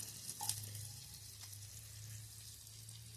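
Fish frying in a pan over a wood-fired stove in a Konkan village kitchen, a soft steady sizzle with faint clinks, close and low in level.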